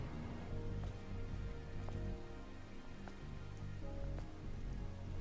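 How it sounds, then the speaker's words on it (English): Rain falls steadily in the video game Stellar Blade, a constant soft patter across the whole stretch, with faint sustained musical tones and occasional light ticks layered over it. "This must be Earth's rain."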